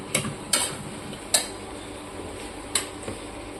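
Pointed gourd and prawns sautéing in a pan with spices, a low steady sizzle under several sharp metallic clinks of a utensil against the pan, no voices.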